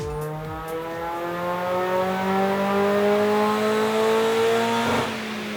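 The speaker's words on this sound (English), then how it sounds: "we've got some massive belt slip" A supercharger belt slips on a car on a dyno: a high, rising mechanical whine with dense harmonics sweeps upward over a roaring engine, loud and steady, then briefly drops near the end.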